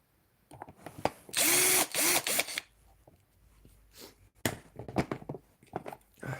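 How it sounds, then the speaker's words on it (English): A handheld power drill whines loudly in a short burst, then in further brief bursts, as it drives into a house wall to hang framed pictures, with quieter handling clicks and knocks between runs. "Now I'm going to drill the screws right into that."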